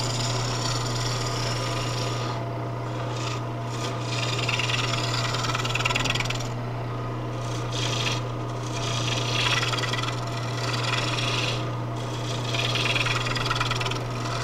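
Wood lathe turning a baluster down to 7/8 inch with a steady rest, a continuous low motor hum under scraping cuts of the tool against spinning wood, rising and falling in short passes.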